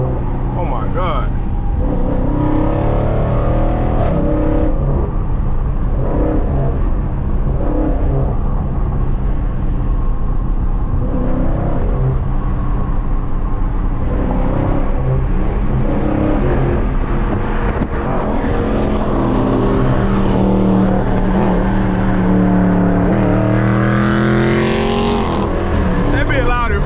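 A Dodge Scat Pack roars loudly on the highway, heard from inside the car as its engine revs and climbs continuously, with people talking over it.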